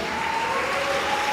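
Congregation in a church applauding in a continuous dense patter, with a faint sustained tone running beneath the clapping.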